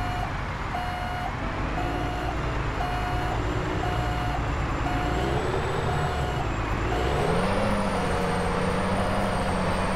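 Truck in American Truck Simulator: a steady, loud engine drone with a repeating reversing beep, and the engine pitch rising and falling as the wheels slip, with no talk.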